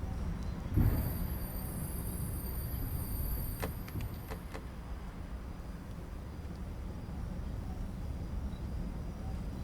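A Siemens ULF tram in the Tramsim driving game rolls slowly along the track in a Vienna depot, a steady low rumble with a thump near the start and a few brief clicks, without talk.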